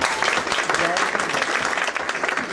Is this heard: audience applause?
yes